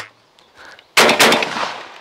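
A single sharp shotgun blast from a new Turkish Altobelli double-barrel cracks loudly after a quiet lead-in, followed by a short rolling echo outdoors.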